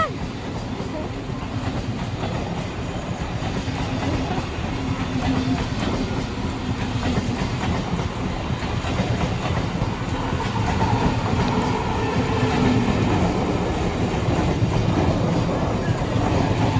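A train runs along a railway line nearby, a continuous loud rumble with rhythmic clatter of wheels on the tracks filling the whole stretch without pause.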